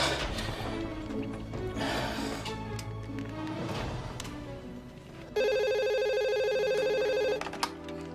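Telephone ringing tone, a steady repeated electronic ring over a few seconds, following a stretch of background music and ambience before someone places a call.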